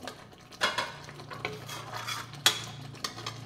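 Butter paneer being stirred gently into a hotel-style butter masala gravy in a pan, with soft scraping and clinking of a spoon against the metal and a few sharper knocks, alone without talk.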